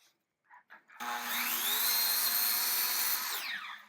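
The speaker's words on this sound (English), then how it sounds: "We're going to go ahead and cut right on this line." A miter saw spins up with a rising whine and cuts through a clamped wooden board, holding a loud, steady buzzing tone for about two seconds before the pitch drops as the blade winds down, with a few soft handling sounds beforehand.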